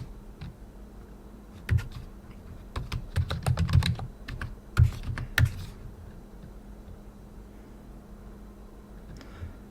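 Fingers tap terminal commands on a computer keyboard in Linux Mint, giving a quick burst of crisp clicking keystrokes in the middle, quiet room hiss before and after.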